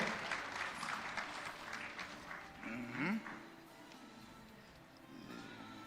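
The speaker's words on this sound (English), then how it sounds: "Ladies and gentlemen, big round of applause." An awards ceremony crowd breaks into applause, a broad wash of clapping that swells and then fades, joined midway by a brief rising, wavering tonal cry or music.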